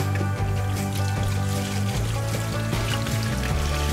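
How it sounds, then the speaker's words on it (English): Tap water runs steadily in a kitchen while hands are washed after cooking turkey smash burgers, a constant close rushing pour with no talking. "I'm gonna wash my hands."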